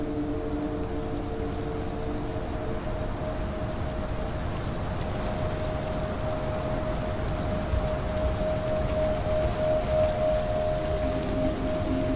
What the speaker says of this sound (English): As the rain begins to pour down